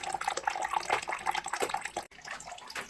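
Water rushes steadily out of an electric water heater's opened drain valve, a continuous splashing flow with faint dripping, fairly quiet and alone, with a brief dropout near the end.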